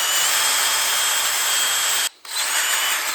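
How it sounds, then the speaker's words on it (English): A power tool spins a soft-bristle brush against an aluminum cylinder head from a 2013 Ford Taurus SHO engine, giving a loud, steady whirring hiss up close that drops out briefly near the end and then resumes. "If you use any kind of power attachment, get something that has a soft bristle so you don't gouge into the aluminum."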